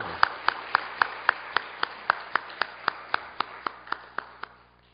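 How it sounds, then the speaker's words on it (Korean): Slow, evenly spaced hand claps ring out one after another in a church gathering, about a dozen crisp single claps with a short echo, fading slightly toward the end. "우리 박수 한번 하실까요?"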